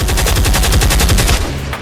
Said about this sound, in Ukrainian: пушки вже стріляють